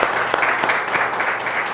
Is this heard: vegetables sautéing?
no